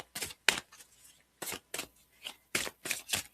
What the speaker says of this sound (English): I am going to go ahead and I'm going to shuffle this one.